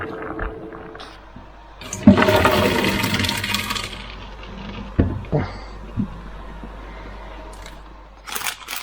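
Water from boiled peas gushes out in a sudden pour, splashing for a couple of seconds, followed by scattered clinks and light clatter of a pot and strainer.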